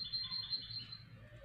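A goldfinch sings in a faint recording, with thin, high chirping and twittering notes over a soft background hiss, and no voices.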